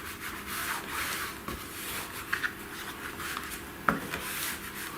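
A bone folder presses and rubs fabric into a glued hinge on a craft project, giving soft, close scraping strokes with a few sharper scuffs.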